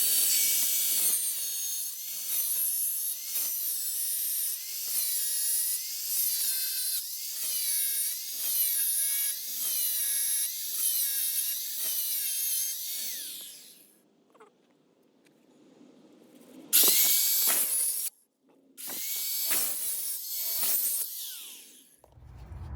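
A power tool cuts through a Toyota Corolla's metal body panel in a long run of rapid, high-pitched rasping strokes, then stops and gives a few shorter bursts after a pause.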